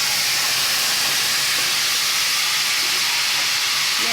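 Black cumin seeds and dried red chillies tempering in hot oil for a Bengali potol bata dish, a dense continuous hiss and sizzle that stays loud and even throughout, with no talking.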